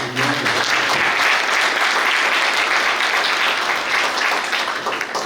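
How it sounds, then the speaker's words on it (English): Audience applause fills a hall at a Kerala Center award night in New York, loud and steady from start to end, with dense clapping blending into a continuous roar. "Give yourself a round of applause."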